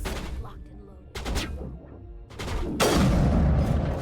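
Gunfire in Mass Effect, a few separate loud bursts spaced about a second apart, the last one heavier and sustained, with a voice talking faintly between them.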